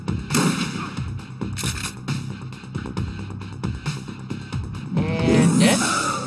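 Gunfire in the Shadowrun Returns game lands as a series of sharp, loud shots in an irregular rhythm, mixed with other game noise and a brief voice near the end.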